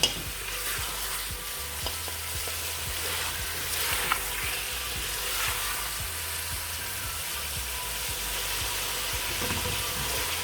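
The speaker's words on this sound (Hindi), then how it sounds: "पाँच मिनट तक मैं इसकी बुनाई करूँगी गोश्त की।" Mutton pieces sizzle and fry steadily in a pot, with occasional stirring scrapes, a continuous close crackling hiss throughout and no talking.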